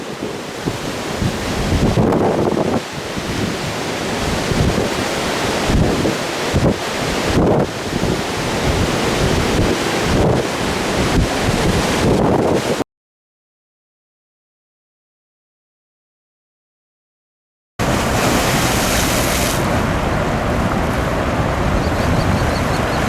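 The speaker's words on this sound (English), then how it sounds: "Wow, this wind is bad." Strong wind buffets the microphone beside a badly flooded creek, a loud roaring rush with gusts, broken by a few seconds of total silence before resuming just as harsh.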